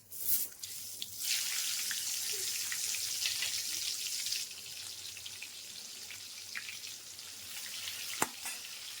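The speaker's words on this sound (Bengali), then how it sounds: "তোমার বেগুনগুলো আর একটু ভাজা হবে, উল্টি পাল্টে করে ভেজে নেবো" Eggplant pieces fry in hot oil with a soft, continuous sizzle, faint and close, with a few sharp clinks of a utensil near the end.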